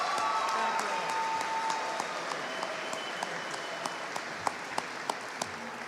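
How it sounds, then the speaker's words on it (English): Sustained applause from an audience fills the clip, steady at first, then thinning toward the end as a few individual claps stand out. "Please keep that applause going for all our speakers this morning."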